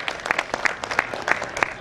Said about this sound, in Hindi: मैं चाहूंगा कि जरा जोरदार तालियों से ऐसे यशस्वी चेयरमैन का हम अभिनंदन करें